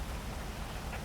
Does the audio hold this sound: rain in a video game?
yes